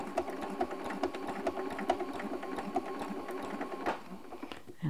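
A sewing machine stitches in the ditch of a quilt using invisible thread, giving a rapid, even mechanical ticking run near at hand that ends in a few clunks as it stops.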